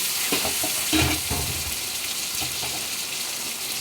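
Peeled taro corms fry in hot oil with dried chili in a home kitchen, giving a steady, close sizzle with a few louder crackles and stirring scrapes near the start.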